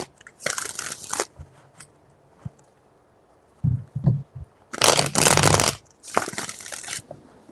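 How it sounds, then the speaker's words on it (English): Tarot cards are shuffled in several quick, crisp bursts of riffling, each lasting about a second and heard close up, separated by quieter pauses with soft card handling and taps. "Three shuffles."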